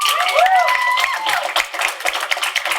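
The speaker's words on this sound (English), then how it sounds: "Round of applause." Cheers and whoops rise over clapping from a high school poetry slam audience, with crisp individual claps continuing after the high-pitched shouts fade.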